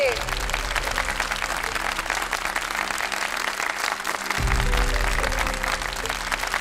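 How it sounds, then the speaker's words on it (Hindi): An audience at a dance competition applauds the first-prize winner with loud, sustained clapping that carries on throughout, while a voice talks over it. "जोरदार तालियां हो जाए नीलांजना के लिए।"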